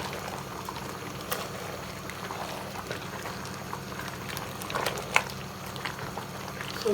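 Atama soup with spinach and egusi simmering in a pot, giving a steady low bubbling and patter that runs evenly throughout, with a few faint clicks near the end.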